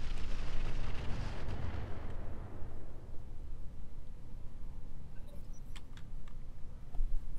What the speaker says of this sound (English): Put some suppressing fire on them, guys.